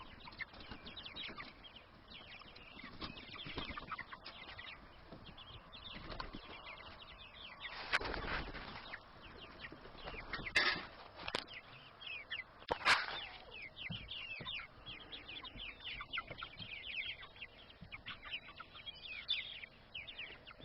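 A flock of chickens in a garden yard cluck softly and intermittently at a distance, with a few sharper louder calls and scattered rustling, in a quiet setting.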